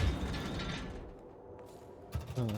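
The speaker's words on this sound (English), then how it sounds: "That was the sound of a ladder, wasn't it?" Mechanical ladder sound in the video game Code Vein, a grinding, ratcheting clatter with creaks under a dense game soundscape, moderately loud, ending in a short thump.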